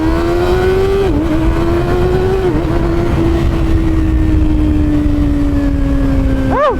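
A Kawasaki sport motorcycle, a ZX6R or Z650, pulls hard in first gear on a ride in Bicol, Philippines, its loud steady engine whine climbing and dipping briefly before a sharp rev rise at the end, under constant wind rush.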